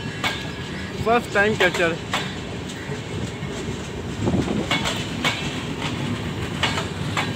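Golden Temple Mail 12904 passenger train passing on a diverted route near Ajmer, India, with a steady rumble and wheel clatter running throughout, a few brief high whistle-like squeals, and people talking over the train noise.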